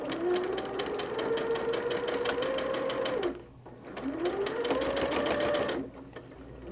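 A sewing machine stitches a seam on a holiday quilt in two loud, steady whirring runs, each ramping up in pitch, with a brief pause between them.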